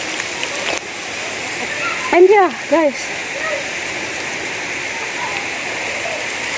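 A waterfall and stream in Ukambani pour with a constant broadband rushing hiss, while someone speaks briefly nearby over the flowing water.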